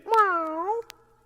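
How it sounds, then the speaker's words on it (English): A single drawn-out meow, close and clear, rising then falling over under a second, followed by quiet. "We just have a kitty Meow."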